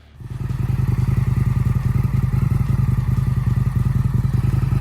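A 2019 Indian FTR 1200 S V-twin motorcycle engine fires up and idles close by, a steady, lumpy, rhythmic thumping that stays loud throughout.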